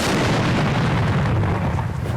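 Three grams of PETN explosive detonating: a powerful, loud booming blast already in progress, with a dense, sustained roar that slowly fades.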